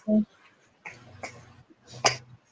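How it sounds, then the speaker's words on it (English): Several short, harsh coughs scattered over a couple of seconds, fairly close, with a muffled voice in the background. "I hear somebody's coughing"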